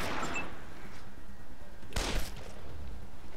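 A single sharp gunshot fired in the turn-based game Wasteland 2 cracks out loud and close, with a short decaying tail over faint background ambience.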